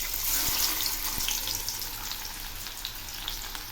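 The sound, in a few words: chopped onions frying in mustard oil in a wok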